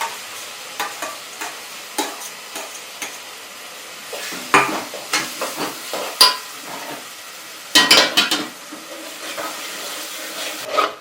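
A tempering of onion and green chili frying in a pan, with a soft steady sizzle broken by repeated scraping stirs and clinks, close and without talking.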